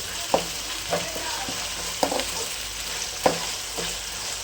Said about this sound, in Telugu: ఇప్పుడు దీన్ని మొత్తం మిక్స్ అయిన తర్వాత కలుపుకుంటూ ఉండాలి. మంచిగా నూనెలో వేగాలి.